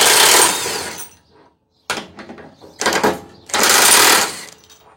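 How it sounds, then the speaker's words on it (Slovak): Narex ASR 600 heavy-duty impact wrench at maximum power loosening two bolts: a loud, harsh hammering burst, a short pause, then choppy bursts and a second sustained rattling run, close and alone. "Rázový úťahovák vždycky uvoľňuje na maximálnej sile."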